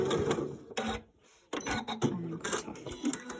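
Sewing machine back stitching at the end of a seam on a top's side slit, running in quick mechanical bursts broken by a short pause, close and fairly loud.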